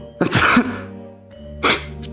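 A sneeze bursts out sharply, followed about a second later by a second shorter burst, both set over a steady sustained musical drone in a French-language audio drama.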